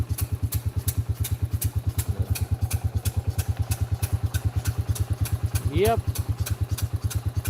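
An old engine at a gas well runs with a steady, fast single-cylinder thump, close and even throughout, while a person speaks briefly and a short squeaky chirp rises near the end.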